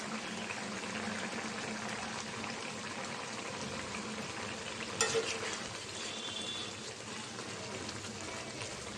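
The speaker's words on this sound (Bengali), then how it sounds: "হালকাভাবে একটু নাড়াচাড়া দিয়ে দিলাম, যেন ধনিয়া পাতাটা সব কিছুর সাথেই মিশে যায়" Curry with coriander leaves gets a gentle stir in a pan, giving a steady soft sizzle with light scraping throughout and one brief louder clatter around the middle, with no voices.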